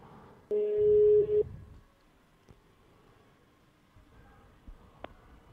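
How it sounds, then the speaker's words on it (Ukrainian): A phone call is placed and a single steady tone sounds for about a second, followed by faint clicks and quiet line noise. "Все, телефонуємо людині."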